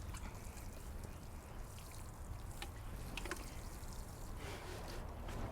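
Water poured or sprinkled over a freshly planted corn bed in a garden: a faint, continuous trickling hiss with a few soft splashes, low in level and with no talking.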